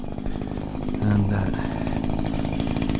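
Powered hedge trimmer cutting a hedge, a loud steady buzzing motor drone with rapid rhythmic chatter running continuously for a few seconds, close up, with someone talking over it.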